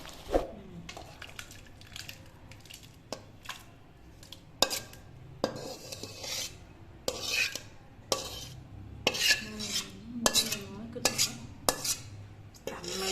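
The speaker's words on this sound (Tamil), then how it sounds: "இது வந்து பாத்திரத்தை சர்விங் பவுலுக்கு மாற்றிடணும்." Sundakkai vathal kuzhambu, a Tamil tamarind gravy, is scraped and poured from a pan into a serving bowl: sharp metallic clinks and ladle scrapes come in irregular bursts, with quiet stretches between them and no talk.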